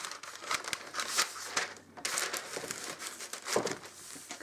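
Sheets of parchment paper are handled for a sewing appliqué project, crinkling and rustling in repeated crisp bursts up close, with no talk over the steady crackle.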